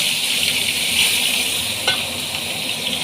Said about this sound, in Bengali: দেখো নাড়াচ্ছি।